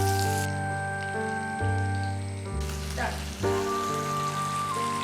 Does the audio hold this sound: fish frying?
yes